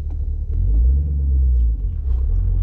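A manual-transmission car's engine rumbles low and steady while driving after the clutch is released, loud and close with a few small swells in intensity and no talking.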